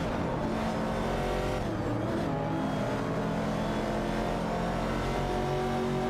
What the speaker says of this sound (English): The battle intensifies between Zamkomi in a Dodge Dart and Bakioki 8 in a Chevrolet Camaro 68 for the 12th spot.